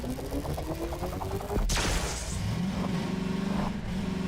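The Half-Life 2 jeep from the video game drives with a steady engine drone. A sharp crash-like burst breaks in partway through, then a lower idling hum carries on to the end.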